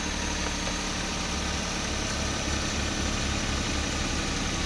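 A Suzuki DA64V van's K6A engine idles steadily and evenly after an up-and-down idle fault was fixed, a continuous close mechanical hum with no one speaking.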